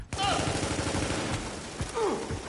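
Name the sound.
gunfire in The Division video game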